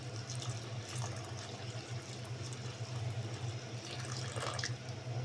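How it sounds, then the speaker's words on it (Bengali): Hot water is poured into a thick pot of haleem made from a ready mix, a continuous gushing pour at moderate level that runs unbroken the whole time. "এখন আমি এর মধ্যে চার কাপ গরম পানি ইউজ করব চার কাপ পরিমাণ গরম পানি"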